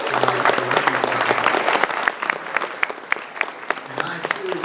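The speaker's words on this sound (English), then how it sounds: "give yourselves a round of applause tonight" An audience at a Jacksonville mayoral candidate forum claps, dense applause that thins into scattered, distinct claps toward the end, with some talk mixed in.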